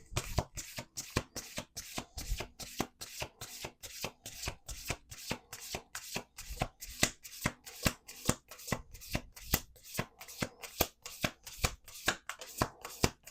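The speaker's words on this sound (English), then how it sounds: "One more shuffle." A deck of cards being shuffled over and over, a fast, steady run of crisp riffling bursts close up for the whole stretch, with no voices.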